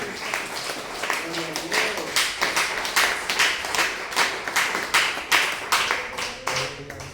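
Church congregation applauding during a sermon, a steady run of hand claps with a voice talking over it and some tonal sounds in the background.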